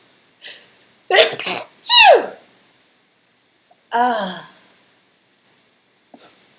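Several loud sneezes close up, a quick pair followed by another, then a later one and a small final sniff, with silence between.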